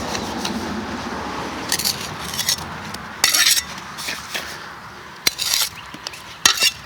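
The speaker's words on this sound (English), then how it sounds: "I'm going to drop the mortar in, and then I'm going to take my trowel and just kind of do an S curve on it" A steel trowel scrapes and spreads mortar on brickwork on a Victorian house. Close, intermittent metallic scrapes and clinks rise over a low background, with no talking.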